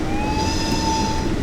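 An ÖBB 1020 Krokodil electric locomotive from the 1940s running on the snowy Mittenwaldbahn in Train Sim World 6, a steady whine of sustained tones over a low rumble, close and continuous.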